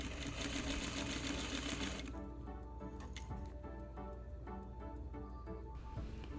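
A sewing machine stitches a ballerina skirt waistband, starting at a fast steady whir for two seconds, then slowing into a lighter rhythmic needle clatter, close and clear with no talking.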